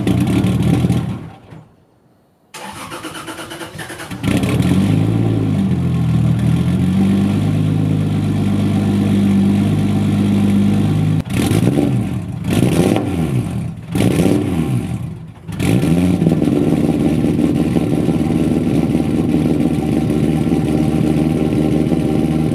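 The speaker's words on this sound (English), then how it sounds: "So I'm going to do a little cold start, see what this thing sounds like." Lexus IS300 engine cold-starting on 85 fuel, cranking briefly after a quiet moment, then settling into a loud, steady rough idle with a few dips and surges in the engine note.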